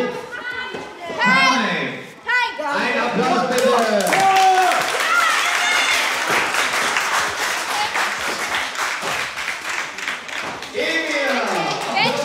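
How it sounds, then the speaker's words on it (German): A crowd breaks into sustained applause at a children's cage-fighting tournament, dense clapping that carries on for several seconds while voices talk over it. "Ein Applaus bitte."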